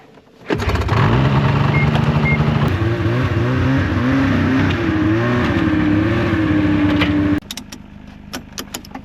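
A car engine starts and runs steadily while driving out toward a national park in snowy Alaska, a loud close engine drone with shifting pitch for several seconds, then cutting off to quiet with a few small clicks.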